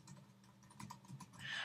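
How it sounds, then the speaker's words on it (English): Soft, quick keystrokes on a computer keyboard as an email address is typed, a faint irregular patter of clicks heard close and alone. "I'll type in my primary email account right there"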